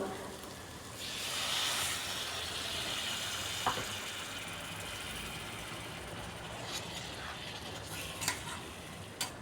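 Water poured into a pan of spiced potatoes sets off a broad, steady hiss and sizzle that swells early and then settles into a continuous boil-like rush, with a few faint clinks of utensils.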